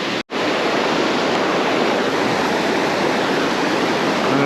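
A waterfall on a creek roars as a loud, constant rush of broadband water noise, briefly cut off near the start and then unbroken throughout.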